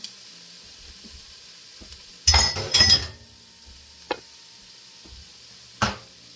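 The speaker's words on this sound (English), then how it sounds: "Okay, so we're just stirring all that in, letting it just brown a tiny bit." Chicken cacciatore ingredients stirred in a pan as they brown, a few loud scraping utensil strokes with light clinks over a faint sizzle, otherwise quiet, no talking.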